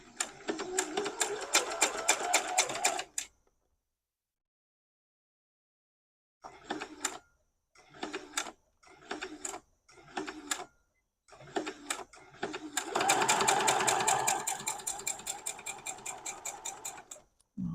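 A sewing machine stitches the last seam of a quilted potato chip block, its rapid mechanical chatter running in short bursts separated by pauses and silence, then a longer steady run.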